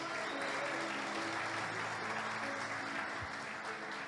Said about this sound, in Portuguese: Dá um forte aplauso a Jesus.